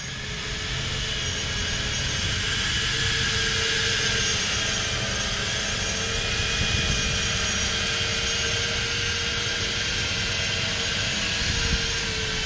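A turbine-powered FPV quadcopter on 8-bladed 89 mm HQprop propellers flies, making a steady loud high-pitched whine and roar that holds constant and fills the whole stretch with no voices.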